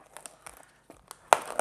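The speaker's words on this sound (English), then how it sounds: "So let's just open the first box. Got my cutter here." Sharp crinkles, scrapes and tearing bursts as a cutter slices open a cardboard parcel box, intermittent and close, with a louder crunchy tear near the end and no talk.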